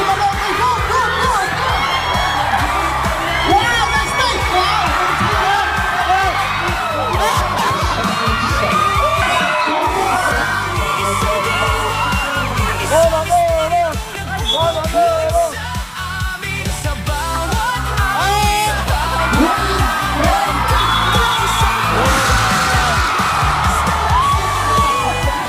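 Crowd at an exhibition basketball game in Hong Kong cheering, whooping and yelling continuously, loud and close, with shouts and music-like tones rising and falling throughout.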